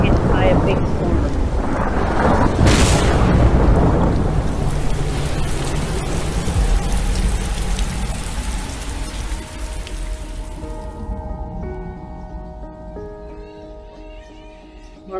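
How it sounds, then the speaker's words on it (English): Heavy rain pours steadily through a big night storm, with a loud thunder crack early on; the downpour fades away near the end. "night they are hit by a big storm."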